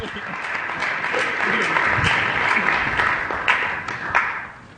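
An audience at a motivational talk breaks into a round of applause, a full, steady clapping crowd that swells and lingers while someone speaks over it.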